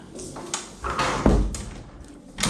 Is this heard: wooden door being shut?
yes